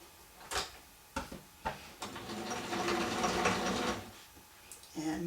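A sewing machine stitches a decorative stuffed fabric pumpkin: a few sharp mechanical clunks, then a steady, close whirring run of stitching lasting a couple of seconds before further clicks.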